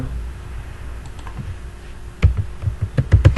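Someone types on a computer keyboard. It starts faint, then from about halfway a burst of loud, close, rapid key clacks runs to the end, with no speech.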